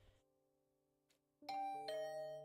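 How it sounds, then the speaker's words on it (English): A two-tone doorbell chime rings inside a residential apartment in the video game The Hundred Line, with a clear ding followed by a lower dong that sustains loudly after a quiet moment. "Is that my doorbell?"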